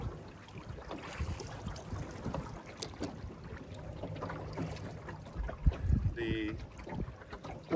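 A Walkabout boat is rowed with heavy homemade oars that have hatchet blades and soft, flexing shafts; irregular water splashes and sloshing mix with wind noise, close by.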